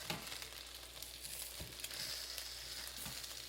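Chicken drumsticks sizzle steadily in an air fryer basket while being flipped, giving a continuous close frying hiss with a few soft knocks and no talking.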